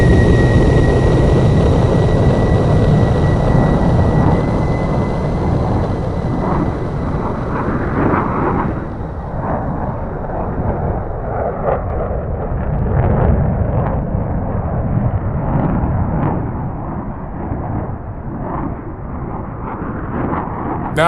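An F-22A Raptor fighter jet at an air show flight demonstration, a loud, continuous, rumbling engine roar that fills the whole stretch and gradually shifts in tone as the aircraft moves.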